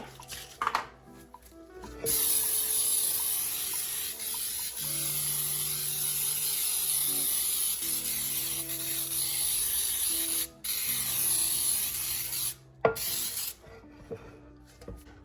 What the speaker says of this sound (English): I'm going to start by spraying with Baker's Joy.